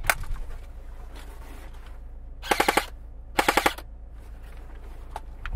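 Hunting rifle gunshots outdoors: two sharp bursts of several rapid reports, one around the middle and another a second later. They ring loud over a quiet background, with no talking.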